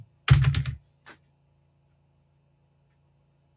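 A quick burst of computer keyboard typing, several rapid close keystrokes clustered in under half a second, then a single isolated tap and a faint click at the end, with silence between.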